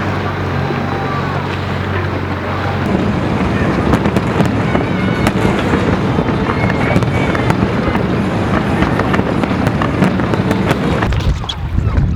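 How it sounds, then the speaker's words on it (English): Fireworks burst near a castle above a boat anchored at its foot off Ischia, a run of sharp cracks and booms over steady wind rumble, starting after a quieter opening. "these guys are setting up some fireworks for 11 PM tonight"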